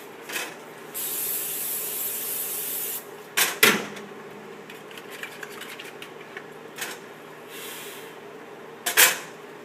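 Cooking spray hisses onto a crepe pan in one steady burst of about two seconds, followed by sharp knocks and clatter of the pan and utensils, with a brief final spray near the end.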